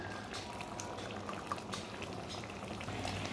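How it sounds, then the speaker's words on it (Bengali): Potato, pointed gourd and lentil curry bubbles softly in the pot as garam masala is stirred in, a faint continuous simmering hiss with small wet pops, close and without talk. "গরম মশলাটা দিয়ে একটু নেড়ে নিচ্ছি ভালো করে"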